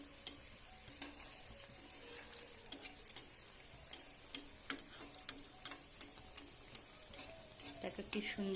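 Malpua batter fries quietly in hot oil, a soft continuous sizzle dotted with small crackles and faint clicks of a utensil at an unhurried pace, close but low in level, with no talk.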